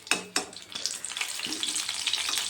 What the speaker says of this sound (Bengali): এগুলোকে আমি লাল লাল করে ভেজে নেব।